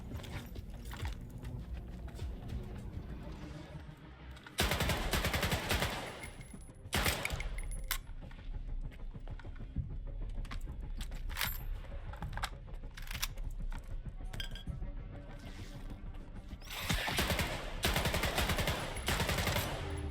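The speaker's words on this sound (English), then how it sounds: "Put a whole mag into that thing and just missed it entirely." Bursts of automatic gunfire in S.T.A.L.K.E.R. 2: Heart of Chornobyl as a whole magazine is emptied, sharp loud volleys around the middle and near the end, separated by quieter clicking and shuffling.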